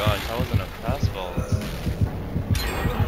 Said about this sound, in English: her heartbeat was quiet suddenly